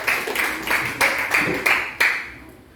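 A classroom of students clapping in unison, six sharp, evenly spaced group claps about a third of a second apart, loud and close, with the final clap trailing into a fading room tail.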